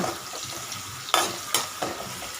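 Cloves, cinnamon and fennel frying with onions in oil for an egg gravy, a low steady sizzle broken by three loud scraping stirs of a spatula against the pan, close up.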